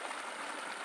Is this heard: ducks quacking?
no